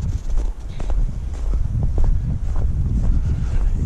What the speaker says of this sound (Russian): Ветер еще сильный.